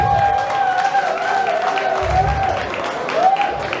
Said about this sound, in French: je vous en prie, applaudissez pour elle.